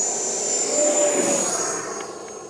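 A Horizon Hobby Viper 90mm electric ducted-fan RC jet takes off from a road with a loud, high whooshing jet whine that holds steady, then begins to fade as the model climbs away.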